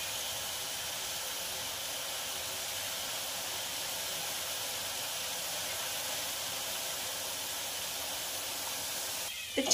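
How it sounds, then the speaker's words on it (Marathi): Boondi batter dropping into hot oil and frying, a steady, even hiss and sizzle that holds unbroken throughout at moderate volume, ending with a brief clatter. "तर छानपैकी अशी आपली बुंदी फ्राय झालेली आहे"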